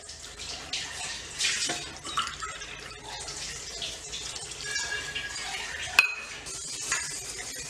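Water is poured into ragi and rava dosa batter in a home kitchen, a soft splashing trickle mixed with light clinks of a cup and utensils, close and fairly quiet.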